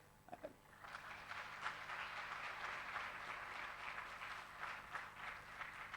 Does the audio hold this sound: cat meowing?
no